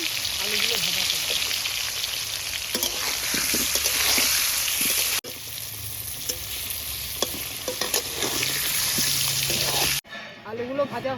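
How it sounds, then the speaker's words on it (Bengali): Potatoes frying in hot oil in a wok make a steady, loud sizzle with scattered crackles and stirring scrapes. A sharp break comes about halfway through, and the sizzle stops abruptly near the end. "আমি তেল ঢেলে নিচ্ছি। রান্নাটা করব। দিয়ে দিচ্ছি, আমি আলুগুলো ভাজা করব।"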